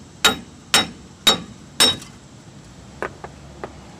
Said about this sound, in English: we can give this hub a couple whacks and remove it with the axle shaft as one piece.